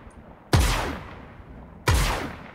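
Two heavy weapon blasts from a Mustang Alpha ship in the space game Star Citizen, each a loud sudden boom with a long roaring decay, spaced about a second and a half apart, with no talking.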